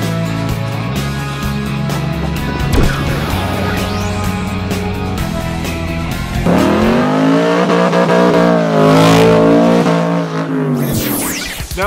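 A 2013 BMW X1 xDrive35i with a twin-scroll turbocharged inline-six pulls hard, its engine note climbing through the gears in loud rising sweeps with brief dips at shifts, heard close and without talk.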